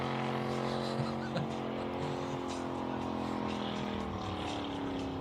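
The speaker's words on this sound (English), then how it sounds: "Come on, drift it all the way up the hill" Classic car drifting up the Simola hillclimb course, its engine droning loud and steady with sustained harmonic revving throughout, briefly rising in pitch, with faint background voices.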